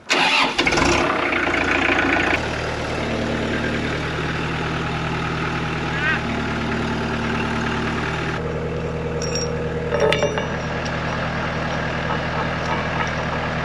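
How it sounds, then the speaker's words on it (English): A tractor engine cranks and catches with a loud, ragged burst, then settles into a steady, low idling rumble that runs on evenly at close range, with a few clanks near the end. "fire up the tractor"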